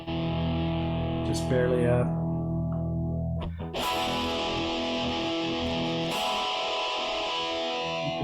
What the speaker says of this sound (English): I think they call it distortion.